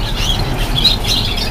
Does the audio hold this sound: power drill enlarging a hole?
no